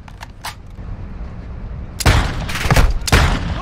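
Rapid bursts of gunfire in the Call of Duty DMZ video game, with a few light shots followed by loud, close volleys that come in quick repeated clusters.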